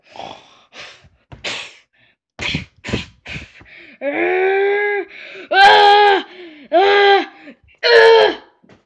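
A voice imitating snoring for a Mangle plush skit: several short breathy sniffs and clicks, then four long buzzing snore rasps in a steady rhythm, close and fairly loud.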